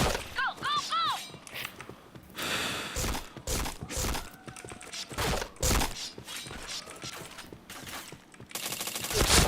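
Rapid gunfire bursts in a shooter video game, with sharp repeated shots and impact cracks scattered through the scene, mixed with excited voices talking and shouting over the action.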